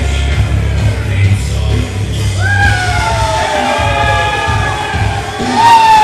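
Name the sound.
crowd cheering for wrestlers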